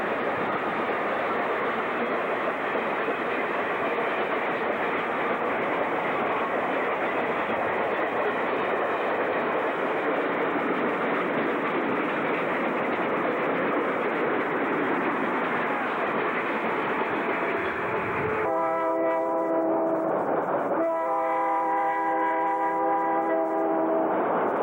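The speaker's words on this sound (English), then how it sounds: "Extra North 1731 passes by with cars bound for Iroquois Falls" An Ontario Northland freight train, Extra North 1731, rolls past on the Iroquois Falls subdivision in winter, a loud, steady roar of wheels and cars that continues throughout, joined near the end by long, sustained horn blasts.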